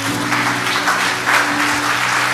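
A church congregation applauding and cheering during a Sunday service, a steady wash of dense clapping with a sustained tone held underneath throughout.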